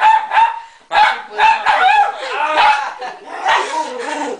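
A pitbull barks repeatedly in loud, close yaps and yips with short gaps, indoors in a home with a TV and game console, and brief whimpering between barks.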